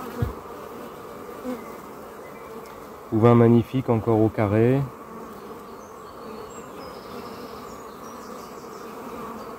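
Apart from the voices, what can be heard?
bees buzzing around an open beehive frame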